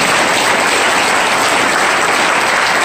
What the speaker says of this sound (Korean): 그럴 때 박수 쳐야죠.